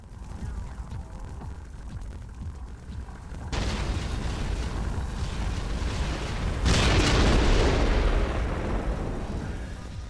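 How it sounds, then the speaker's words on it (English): Explosions and roaring fire in the video game Descent 3 after enemies are destroyed, a steady loud rumbling blast that swells in two stages and stays dense to the end. "I destroyed them all, and suddenly everything catches fire"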